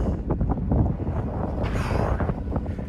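Strong wind in mist and cold in the Vosges mountains buffets the microphone in a steady, rumbling roar, with gusts swelling and fading and no voices.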